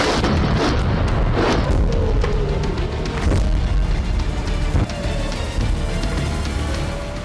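Loud explosions in news footage from Isfahan, attributed to Iranian air defence systems, rumble in deep, continuous booming waves with sharp cracks, dense and overwhelming throughout.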